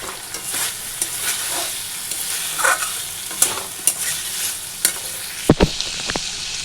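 Rui fish curry with papaya, potato, ginger and spices cooks in a pan, giving a steady sizzle and stirring noise throughout, with a few sharp utensil clinks near the end.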